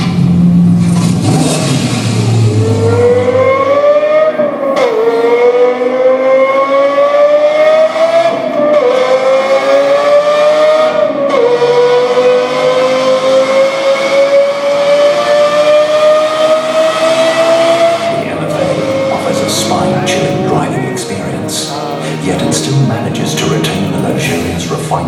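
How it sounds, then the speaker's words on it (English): Lexus LFA sports car with a carbon fiber body revving hard, its engine and exhaust note climbing steadily through long rising pulls, loud and close, easing off near the end at an unveiling event in Johannesburg. "a dramatic signature exhaust note"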